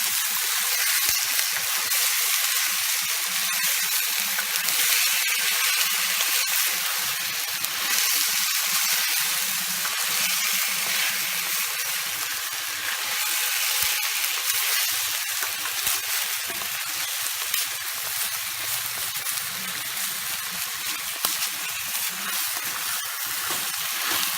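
Meat sizzles continuously in a pan after onions have cooked, a loud, even, hissing fry that runs unbroken with no voices.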